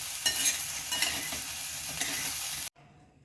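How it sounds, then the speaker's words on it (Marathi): Okra (bhindi) being stirred and fried in a pan, with steady close sizzling and scraping strokes of a spoon for under three seconds before cutting to near silence. "छान मिक्स करून घेऊया."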